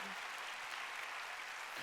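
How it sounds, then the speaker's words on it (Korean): Congregation clapping at a Korean church Sunday worship service, a steady broadband patter of many hands filling the short stretch, moderately loud and continuous, with no talking over it. "박수"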